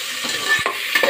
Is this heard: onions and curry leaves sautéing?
yes